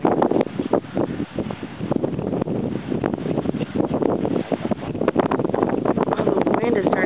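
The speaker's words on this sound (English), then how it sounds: "the wind is starting to pick up like crazy" Strong Hurricane Ike winds rush past houses in a steady, loud buffeting roar with gusty surges and microphone wind noise throughout, and a person talks briefly over it.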